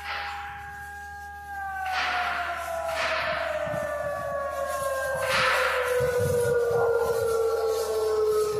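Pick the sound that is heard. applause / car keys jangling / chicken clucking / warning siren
warning siren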